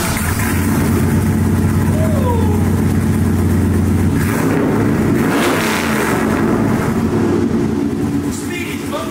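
A pickup truck engine revs through a freshly welded Speedy's muffler, giving a loud, close, throaty drone with rising and falling surges midway before settling back to a steady rumble.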